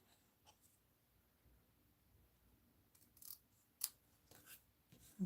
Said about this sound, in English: I could trim a little more, but I do have a pair of scissors that are strictly for the ribbon.